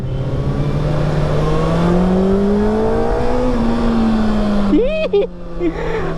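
2024 Kawasaki ZX-6R motorcycle accelerating on a ride, a loud engine note climbing steadily in pitch for several seconds, then a quick rev drop at a gear change before pulling again.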